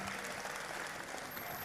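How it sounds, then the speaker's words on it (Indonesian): Audience applause for the MC at a public event, a dense, steady wash of clapping at low volume, with no voice over it. "Beri tepuk tangan buat MC kita ini."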